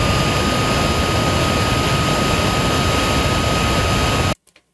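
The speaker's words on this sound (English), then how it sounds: "That's just the fan for my 3D printer. As is the jet engine when it starts." A 3D printer cooling fan standing in for a jet engine, giving a loud, steady, dense whooshing roar that holds for over four seconds and then cuts off abruptly into near silence.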